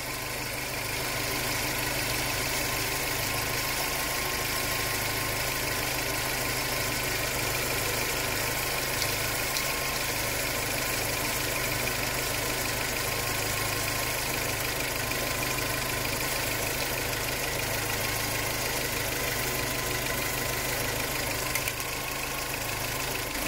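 Car engine idling steadily while accessory belt spray is applied to the running accessory belt, a constant mid-pitched hum with a faint rhythmic pulsing, close and unbroken for the whole stretch.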